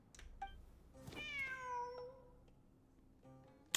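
Cat meowing in Genshin Impact during a Sumeru event, a single clear drawn-out meow with a falling tail, quiet and isolated against faint game background.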